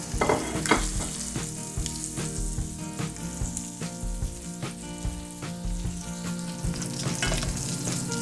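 Salmon fillets fry in lemon butter in a pan, a constant close crackling sizzle with scattered pops and a few light stirring sounds, steady and unbroken, with no talking.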